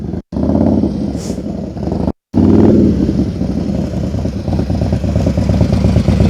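A motorcycle on a night slow-speed riding practice course, steady low engine rumble with gentle throttle blips and two abrupt cuts, close and continuous throughout, no talking.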